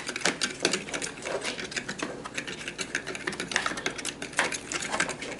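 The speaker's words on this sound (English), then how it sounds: "I'm going to start to mash the yolks down. Mix all that together." Boiled egg yolks are mashed and mixed in a bowl, producing rapid, continuous clicking and scraping taps of a utensil against the dish at close range.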